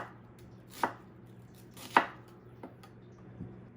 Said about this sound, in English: as you get toward the middle, when you get here, you just cut straight down